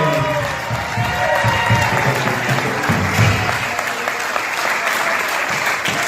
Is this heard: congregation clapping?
yes